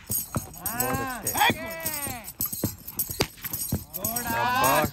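A horse's hooves clip-clop in uneven beats close by, under a man's loud cheering and drawn-out voiced calls.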